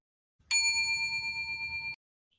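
A single bright notification ding sound effect strikes sharply, then its clear metallic tone rings on evenly for about a second and a half before cutting off.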